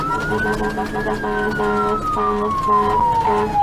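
An ambulance siren wails close by in a single slow rising and falling sweep, over a rumbling engine and a busy mixture of other tones.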